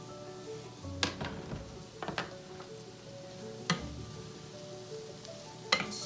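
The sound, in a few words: sautéing mushrooms and shallots in butter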